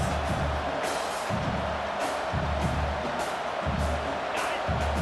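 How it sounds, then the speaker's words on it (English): A stadium crowd roars in the EA Sports College Football 25 video game, a broad, steady cheering swell with rhythmic low thumps and whoops, while a commentator's voice runs faintly beneath. "The roar of the crowd trying to fuel this defense to keep them pinned in their own end."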